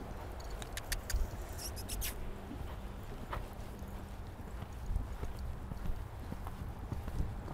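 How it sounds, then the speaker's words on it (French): Horse hooves beat in a quick clip-clop rhythm during a riding lesson in an arena, a steady moderately near patter of hoofbeats with occasional louder strikes. "laissez un peu plus galoper ton cheval"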